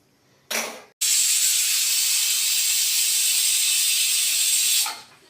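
A pressure cooker cooking dal lets out a loud, sustained steam whistle-hiss lasting about four seconds, preceded by a short burst of hissing and trailing off at the end.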